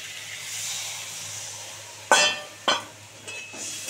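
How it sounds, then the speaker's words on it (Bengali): Water splashes into a pan of sautéed prawns and pumpkin for a Bengali chingri kumro chhaka, with a steady steam hiss. Sharp clinks and splashes land near the two-second mark and again about half a second later. "এবারে অল্প করে জল দিয়ে দিচ্ছি।"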